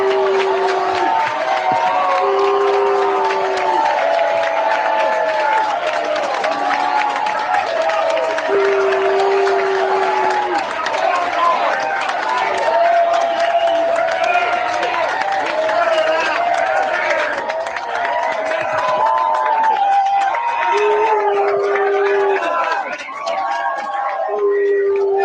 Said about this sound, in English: Lots of booing